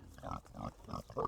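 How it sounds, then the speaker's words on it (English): Pigs grunting in a pen with soft, rooted-up dirt: about four short grunts in a loose rhythm, fairly quiet and close, with no talk over them. "the pigs are being pigs"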